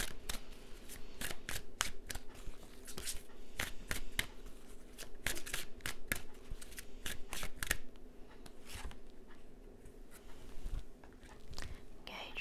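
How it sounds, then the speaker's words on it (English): Oracle cards are shuffled in rapid, rhythmic riffles, a crisp papery flutter repeating steadily up close and slowing toward the end, with no talking. "just pull, shuffle out a couple of cards for you"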